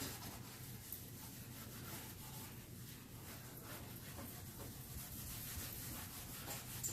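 A finish is rubbed and buffed on an old console table being aged, a faint steady scrubbing and brushing texture, close and quiet, with no talking.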